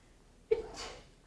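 A single quick sneeze, fairly soft and close, with a sharp onset and a brief breathy tail.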